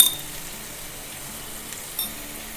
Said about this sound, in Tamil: இப்போ நல்லா வதங்கட்டும்